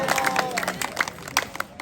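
A crowd claps and laughs together at a temple in Vrindavan, a steady burst of many hands with scattered voices mixed in, lively and fairly close.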